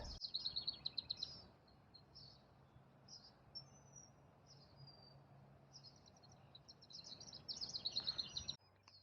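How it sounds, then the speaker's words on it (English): Birds chirping in a garden in the early morning, quick bright bursts with louder trills at the start and end and quieter calls between, over a soft steady background hum. "It's early morning. The birds are chirping."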